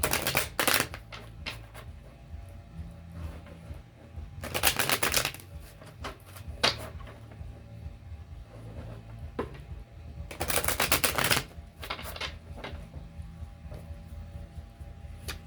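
Tarot cards being shuffled in several quick riffling bursts, close and crisp, separated by quieter handling sounds, with no speech.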